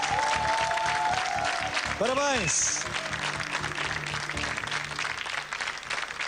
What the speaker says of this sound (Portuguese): Aplauso para o Paulo,